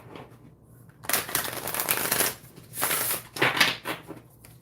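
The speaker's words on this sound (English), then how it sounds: "Or you can split it up like this and shuffle them separately and then put them together and shuffle them however you want to do it." A Witches' Wisdom tarot deck shuffled by hand, giving close, dry bursts of riffling cards in two or three rapid waves separated by short pauses, with no voices.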